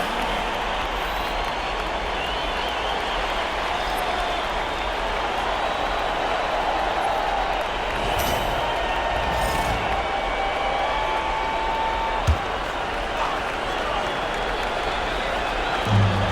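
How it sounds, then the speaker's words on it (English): A large video game crowd at an NBA 2K25 playoff basketball game applauds and cheers steadily in a big arena, a continuous wash of clapping with a few sharp squeaks and thumps. "One more big round of applause, fans."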